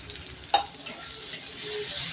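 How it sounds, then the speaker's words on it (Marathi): Garlic and green chilli paste sautéing in oil for a Maharashtrian pithla, a soft close sizzle with one sharp utensil clink early on and a few quieter stirring scrapes after, no talking. "हे चांगलं तेलामध्ये परतून घ्यायचं थोडेसे तेल अजून ऍड करायचे"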